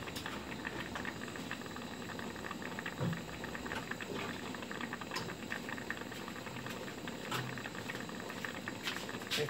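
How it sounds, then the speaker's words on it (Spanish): Water boiling inside a homemade water distiller built from a recycled thermos, a steady dense bubbling hiss with occasional sharper pops and clicks, close and continuous. "aquí está hirviendo. ¿Lo escucháis?"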